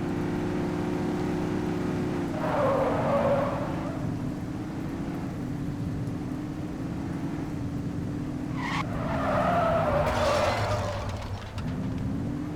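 Police car in The Precinct video game skids hard with squealing tires over a steady engine drone, two long squeal bursts a few seconds apart, loud and close, no talking.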